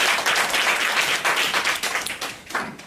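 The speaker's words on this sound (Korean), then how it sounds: "함께 같이 박수로 최재선 박사님 환영하도록 하겠습니다." A church congregation claps to welcome a guest speaker, a short burst of fairly close applause that swells and then gradually thins out over a few seconds.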